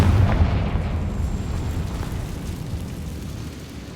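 A Confringo fire spell explodes in the video game Hogwarts Legacy, a loud close boom at the start that trails off into a long rumbling decay.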